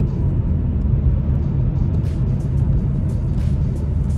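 A BMW 1 Series with about 150 horsepower accelerating in sport mode, heard from inside as a steady low engine rumble and road drone that stays even throughout.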